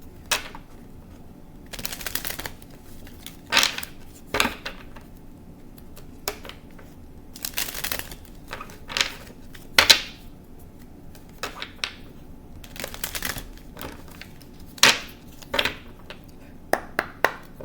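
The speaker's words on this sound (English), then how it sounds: "Let me shuffle." Intermittent papery riffles and soft taps of tarot cards being shuffled, in short bursts separated by pauses, close and fairly quiet.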